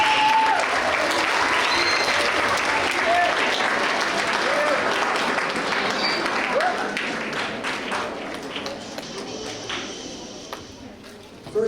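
Parents, guardians and family members at a middle school awards ceremony give a long, steady round of applause that fills the room, a dense wash of hand claps tapering off near the end.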